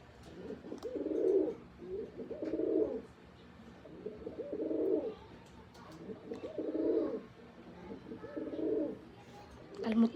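Brown pigeons coo close by in a repeated pattern, about five soft, throaty rolling calls evenly spaced with short pauses between them, with faint background chirps.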